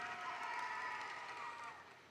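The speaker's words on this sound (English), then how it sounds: "We like that cheering section back there." A cheering section of graduates at a Washington State University spring commencement roars faintly from a distance: a sustained crowd wash of shouts and whoops that tapers off toward the end.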